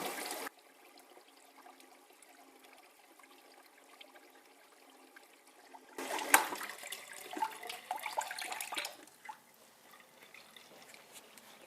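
Running water washes Idaho dredge mining concentrates, first a faint trickle and then a louder, splashing stream that starts abruptly and continues close by.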